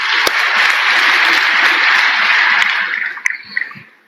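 An audience claps in memory of Hiraben at an event with film star Suresh Oberoi and lyricist Manoj Muntashir. Dense, steady applause fills the room for about three seconds, then thins into scattered claps.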